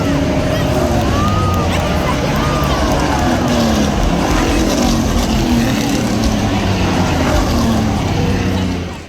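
Race cars at the Music City Grand Prix street race in Nashville roar past in a dense, continuous wash of engine noise and crowd babble, with passing whines rising and falling throughout.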